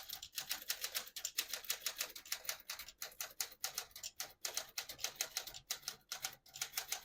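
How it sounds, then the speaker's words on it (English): Brisk, steady typewriter keystrokes clack in quick bursts with brief pauses, close and crisp, like a sentence being typed on a small 1937 Corona Standard portable typewriter. "I'll type a sentence on the next line."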